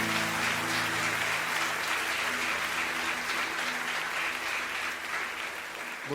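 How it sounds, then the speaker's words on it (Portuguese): A church congregation claps loudly and steadily for about six seconds, a dense sustained round of applause with a faint hum of held musical tones underneath. "Vamos aplaudir o Senhor bem forte."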